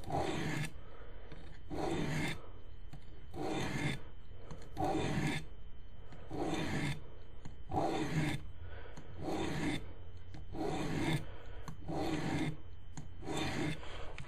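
Steady back-and-forth rasping of a kitchen knife drawn across a coarse sharpening stone, about a dozen even strokes in a regular rhythm, close and fairly loud with no talking.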